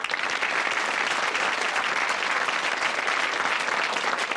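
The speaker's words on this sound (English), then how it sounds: "A round of applause" A studio audience at a 1984 British TV quiz show breaks into dense, sustained applause, loud and even throughout with no talk over it.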